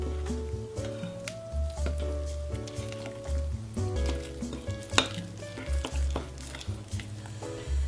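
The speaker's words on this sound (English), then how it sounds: "And then we're gonna give it a nice good stir again." Dirt playdough mixture mixed with vegetable oil being stirred in a bowl, giving soft squishy scraping strokes in an uneven rhythm, fairly quiet and close, with a sharp knock midway.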